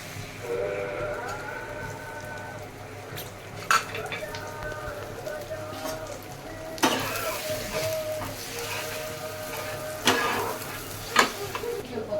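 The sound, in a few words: egg frying in oil in a pan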